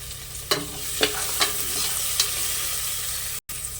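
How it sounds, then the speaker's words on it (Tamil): Chopped tomato sizzles in a hot pan as it is sautéed for coconut rice, with a steady frying hiss broken by a few soft stirring scrapes. "தக்காளி ஒன்று கட் பண்ணி வச்சுருக்கேன் ஒரு தக்காளி தாங்க அதையும் போட்டுக்கலாம் போட்டு நல்லா வதக்கி"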